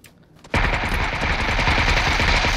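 Gunfire in the PUBG video game: after a brief quiet moment, a loud, continuous rapid burst of automatic fire starts abruptly and keeps going to the end, close and dense.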